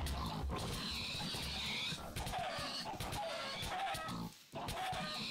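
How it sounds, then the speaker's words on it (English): Chickens clucking in the Minecraft video game, a busy stretch of short bird calls layered over constant game sounds and other animal noises, with no talk. "Man, there are a ton of chickens."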